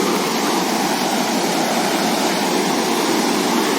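Spring water rushing steadily at the source in Achabal garden, Kashmir: a dense, continuous roar like a small waterfall, close and unbroken throughout with no voices.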